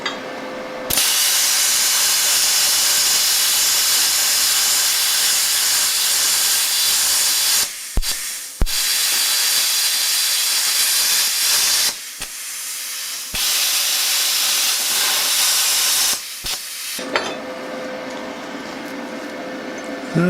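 A BESTARC plasma cutter washing off a weld on high-carbon steel, a loud, harsh, continuous hiss that cuts off briefly several times and restarts, with a faint steady hum behind it.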